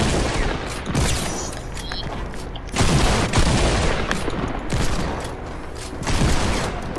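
Gunfire in the Murder Mystery video game comes as dense, rapid bursts of shots, loud and near, repeating in clusters with brief lulls between them.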